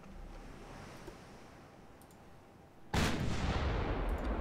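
Wind and sea rumble under a distant night scene from Ultimate Admiral: Dreadnoughts, then a warship's guns firing armor-piercing shells break in with a sudden heavy blast that rolls on loudly to the end.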